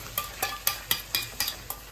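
A spoon scrapes around a pan of besan gatte curry masala in a steady rhythm, about eight evenly spaced stirring strokes over a faint sizzle.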